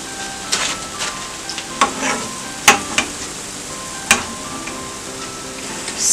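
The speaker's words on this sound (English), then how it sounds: "when you put them inside the oil to fry, make sure it's on a medium or low heat" Puff-puff dough, made with coconut, fries in hot oil over medium-low heat with a steady crackling sizzle, punctuated by occasional sharp pops and utensil clinks, close by.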